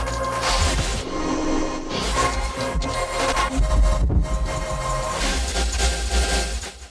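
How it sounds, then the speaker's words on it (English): A granulator plugin from a neuro bass generator rack, running alone without other processing, gives a dense, grainy, noisy electronic texture with low rumble and brief dropouts, steady and fairly loud throughout. "the granulator just sounds like this"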